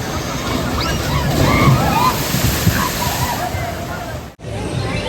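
Water splashes and sloshes steadily on Dudley Do-Right's Ripsaw Falls, a soaking log flume ride at Universal Orlando, loud and close, with faint voices rising through the spray and one brief dropout near the end.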